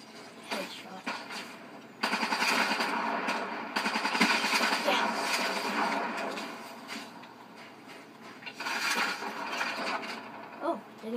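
Automatic gunfire rattles in Black Ops 3 in long, loud bursts, with a rapid run of shots in the middle and shorter bursts near the end, and a voice talking over it.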